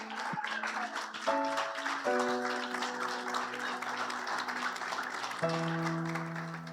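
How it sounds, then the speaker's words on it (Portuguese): A church congregation claps steadily, with the applause fairly faint and continuous. Sustained organ or keyboard chords play over it, changing a few times. "Vamos aplaudir ao Senhor."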